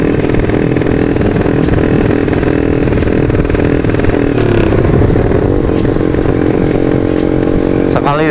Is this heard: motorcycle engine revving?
yes